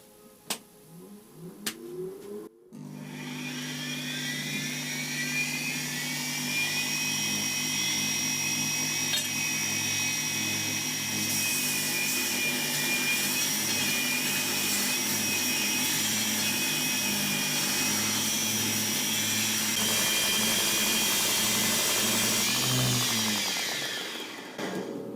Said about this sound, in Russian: хочу шлифануть 10-мм сталь, из чего изготовлен станок, столешница